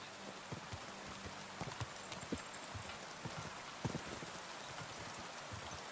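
Horse hooves clop at a walk while riding in the medieval game Kingdom Come: Deliverance 2, faint and irregular beneath a steady hiss of rain falling, with no talk.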